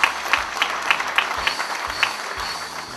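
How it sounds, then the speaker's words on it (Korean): Applause at a Korean labor union convention, a dense wash of clapping from a large crowd, steady and moderately loud throughout. "네, 힘찬 박수 부탁드리겠습니다."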